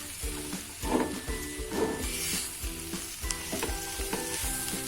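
Beetroot ladoo mixture with milk powder being stirred in a pan, with a steady rhythm of spoon scrapes over a soft sizzle and a faint background hum.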